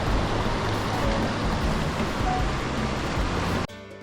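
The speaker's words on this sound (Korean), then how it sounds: "누워 있으면 파도 치는 소리가 잔잔히 들려 너무 힐링됩니다." Steady, soft rushing of ocean surf heard from a hotel room in Atami, Japan, a continuous wash of gentle waves that cuts off abruptly near the end.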